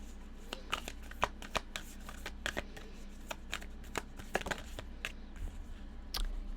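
Moonology Oracle cards are shuffled by hand, a steady run of crisp riffling flicks and soft slaps repeating at an irregular pace, close and clear over a faint background hum.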